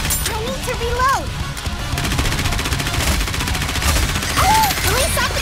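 Rapid gunfire and bursts of automatic fire from the NIKKE: The Goddess of Victory shooter game, crackling steadily beneath a voiced character's lines and game music.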